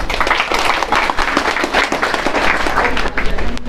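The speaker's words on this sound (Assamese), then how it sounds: "নিজৰ কাৰণে সকলোৱে এটা হাত চাপৰি মাৰি দিয়া" A workshop audience applauds all together, a dense burst of clapping from many hands that holds steady at full loudness throughout.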